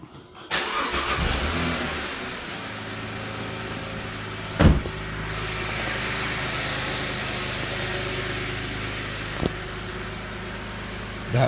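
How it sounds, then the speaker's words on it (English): A car engine cranks and catches, then settles into a steady, moderately loud idle that runs on evenly, with a couple of short knocks or clunks along the way. "And I'm going to just go around and start the car."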